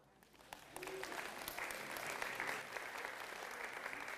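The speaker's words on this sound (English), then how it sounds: "give yourselves a big round of applause" An audience at a workplace-culture talk gives itself a round of applause, starting softly and swelling into a steady, moderately distant clapping crowd that carries on to the end.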